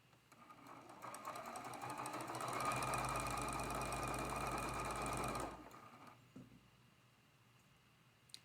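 A sewing machine stitches quilt block pieces together in a steady, fast mechanical whir that builds and holds for several seconds, then stops abruptly, leaving faint handling clicks.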